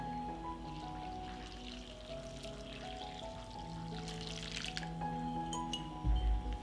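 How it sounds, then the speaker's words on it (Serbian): About 500 ml of warm water pours steadily into a bowl of dough mixture for several seconds over a low, even background hum, with a brief heavier splash near the end. "dodat ću 500 ml tople vode"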